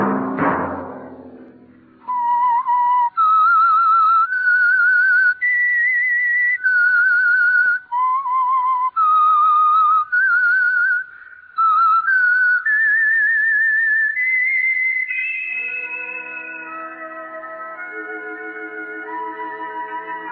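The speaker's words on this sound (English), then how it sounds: "Let that whistle be your signal for the Whistler." A radio show's signature whistled tune, a lone human whistle carrying a slow melody of sustained notes, loud and clear, then fading into soft orchestral music.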